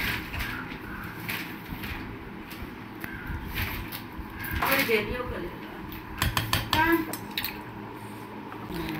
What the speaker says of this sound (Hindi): हम लोग पैक करने के लिए बर्तन ढूंढ रहे थे